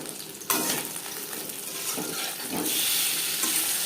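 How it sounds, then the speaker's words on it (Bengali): Hot oil erupts into a loud sizzle as fish goes in over a medium flame, then keeps crackling and hissing steadily, growing slightly louder toward the end. "মাছ ভাজবো মিডিয়াম ফ্লেমে"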